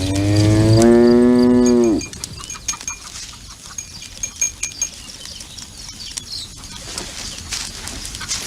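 A water buffalo lets out one long, loud, close moo lasting about two seconds, followed by quieter rustling and scattered small sounds.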